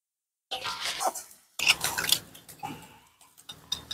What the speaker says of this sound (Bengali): এই দেখুন খুলে গেল ক্যানটা।